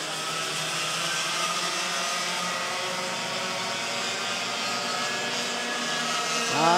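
Racing karts in the final heat of a KT-Masters event scream past in a dense, high-pitched buzz of several engines, and a sharp rising whine from one kart closes in at the end.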